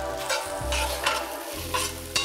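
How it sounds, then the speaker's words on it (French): Celery, carrots, shallots and onions frying in a casserole pot, a steady sizzle with intermittent stirring scrapes and a low background hum, no talking. "je retire les morceaux de la cocotte et les remplace par les légumes, mélange classique de céleri, carottes,"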